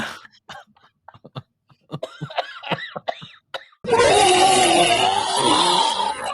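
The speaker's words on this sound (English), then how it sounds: "You're starting to cough like her too." A series of harsh, broken coughs and throat rasps come in uneven bursts, close up, followed by a loud, noisy rush of sound.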